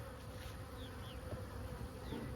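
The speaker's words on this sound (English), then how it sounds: "They're happy bees. Hey, happy bees." Honey bees hum steadily around an open hive during a sunset inspection on a farm, a continuous close drone with single bees buzzing past now and then.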